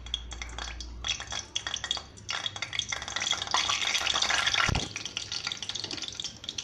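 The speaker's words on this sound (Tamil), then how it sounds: "கடுகு பொரிஞ்சிருச்சு." Half a spoon of mustard seeds pops rapidly in hot oil in a pan, spitting and crackling in a dense sizzling patter close up, with a brief clatter near the end.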